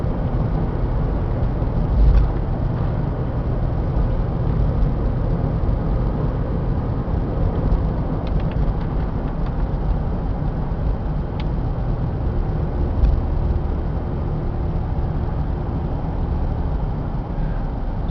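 A 2002 Chevy Astro AWD LS van with a six-cylinder engine cruising at 55 mph, heard from inside as a constant low rumble of road and engine noise, with no talking.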